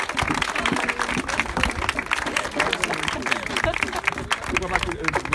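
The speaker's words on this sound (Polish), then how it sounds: "Wielkie brawa sobie dla niej i dla całego studia." An audience claps in a studio, the applause moderate and continuous, with voices mixed in.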